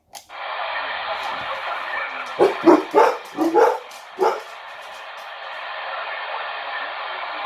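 Several dogs barking in a quick, irregular cluster of sharp yaps, heard faintly through a steady hiss of radio static.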